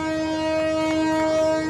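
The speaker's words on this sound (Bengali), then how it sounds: "লোকোমোটিভের হর্ন শুনতে পাইছি, আর ট্রেন এরই সাথে জানান দিল যে আমাদের যাত্রা বিরতি শেষ।" Locomotive horn of the Saikat Express, train number 821, at Ramu railway station, a steady two-tone blast held loud and unbroken through the whole clip over a low rumble.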